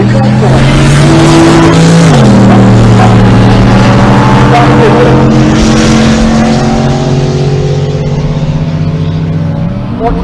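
A 1995 Nissan Skyline GTR launches in a drag race at a Pueblo, Colorado strip, with a very loud engine roaring and climbing through the gears, close and dominant, while an announcer talks over it.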